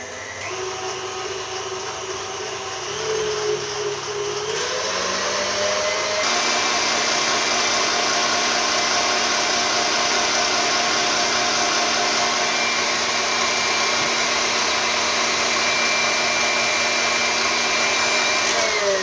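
An electric mixer whirs through chocolate hazelnut batter, a loud steady motor drone that shifts pitch and jumps to a higher, stronger speed after a few seconds, then holds evenly.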